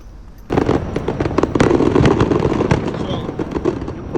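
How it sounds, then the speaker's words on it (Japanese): Summer-night fireworks display at Jingumae, Tokyo: after a brief quiet start comes a loud, dense barrage of crackling bursts and pops that continues steadily, with voices faintly audible underneath. "花火です。 新宿花火。 新宿花火じゃねえよ。 神宮前。"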